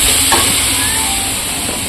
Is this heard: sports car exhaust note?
no